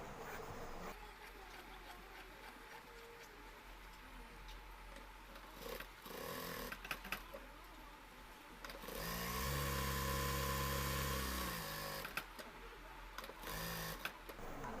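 A sewing machine stitches a shirt collar, its needle whirring in bursts that stop and start, with a longer, louder steady run near the middle, heard up close with no talking.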